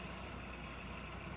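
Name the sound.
Ford Mondeo MK1 car engine idling after start up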